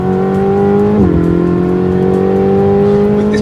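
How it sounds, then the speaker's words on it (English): A supercharged Ferrari 488 GTB's V8, mounted behind the cabin, holds a loud, close, steady drone whose pitch drops once and then stays even. "With this big old V8 in the back"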